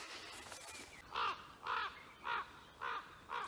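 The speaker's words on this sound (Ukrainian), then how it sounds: "Ворона настирлива така вчепилася до мене і кричить, нібито по гриби не пускає." A crow caws insistently while flying overhead in a spring forest, five harsh, evenly spaced calls ringing out clearly after a brief stretch of rustling, with no talking.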